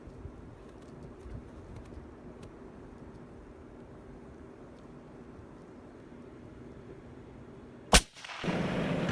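A long-range rifle fires a single sharp, loud crack after a long quiet stretch, followed by a short gap and then rushing outdoor noise.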